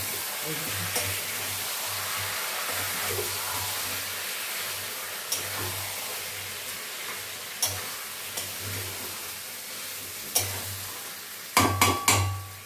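Spices sautéing in a pan after water is poured in, with a steady low sizzle and intermittent scraping stirs that grow into sharper clatter at the end.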